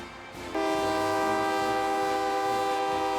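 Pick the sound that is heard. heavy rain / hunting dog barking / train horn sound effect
train horn sound effect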